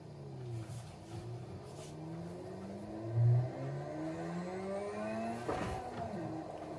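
A Mazda RX-7 with a stick shift in Forza Horizon 4 accelerates along an empty road, its engine note climbing in rising sweeps through the gears, loud and continuous with a brief surge partway.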